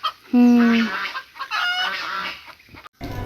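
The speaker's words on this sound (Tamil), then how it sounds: "கோழி உள்ளுக்கு அடைஞ்சிருக்கு" A hen clucks on a farm estate with a loud, close squawk followed by quieter, repeated clucks and rustling, and faint background noise between the calls.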